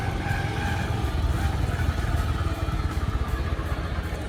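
A motorcycle engine rumbles steadily up close at a dam site, a loud low throbbing drone that holds even throughout as the bike is ridden and brought to a stop.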